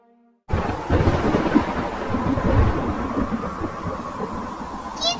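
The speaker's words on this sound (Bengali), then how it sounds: "জোরে বাতাস বইছে।" A Kalbaishakhi storm breaks with a sudden loud rush of strong wind and thunder, a broad roaring wall of noise that starts abruptly after a short silence and holds steady, rumbling, for several seconds.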